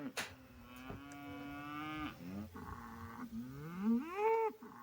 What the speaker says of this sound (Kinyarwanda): Imbyeyi iravumera iyo ishaka iyayo.